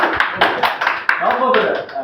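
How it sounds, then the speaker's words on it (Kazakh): A university study group's classmates give Aslan a few scattered claps, sharp sparse hand slaps spaced irregularly while someone keeps talking over them. "Асланға бір кереметтей шапалақ болсын"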